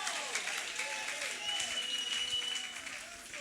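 Church congregation clapping during a crossover prophecy service, a continuous crowd of hands beating throughout, with voices and what sounds like singing or shouting layered over the applause.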